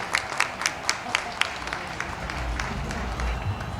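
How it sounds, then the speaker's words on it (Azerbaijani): Applause for a departing football player during an Azerbaijani media league all-star match, with scattered claps early building into a steadier crowd wash, heard under a commentator's speech. "alqışlayırıq İsmailı"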